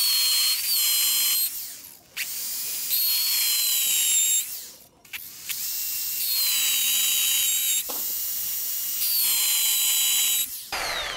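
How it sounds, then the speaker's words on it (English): A power drill whirs in several high-pitched bursts, starting and stopping repeatedly with short pauses between runs, close and loud. "let's go ahead and drill some more holes"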